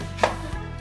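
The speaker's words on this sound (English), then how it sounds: "I'm gonna cut up the red onion now" A knife chops through a red onion on a board, one sharp crisp cut followed by a softer knock, close and clear.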